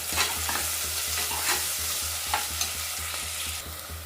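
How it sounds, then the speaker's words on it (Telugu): Green chillies and onions fry with salt in hot oil, a loud continuous sizzle with a few soft stirring scrapes, close and with no voices. "ఇందులోకి పచ్చిమిరపకాయలు, ఉల్లిపాయలు ఉల్లిపాయలు వేగడానికి 1 స్పూన్ సాల్ట్ వేసుకుంటున్నాను"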